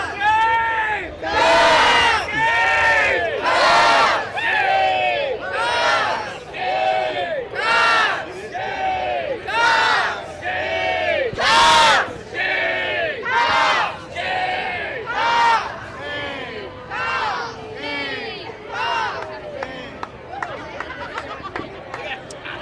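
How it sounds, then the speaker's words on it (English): Gamecocks fans in Williams-Brice Stadium trade a rhythmic chanted cheer back and forth across the stands, loud roaring bursts repeating roughly every second with a commentator talking over them. "the Gamecocks cheer going back and forth"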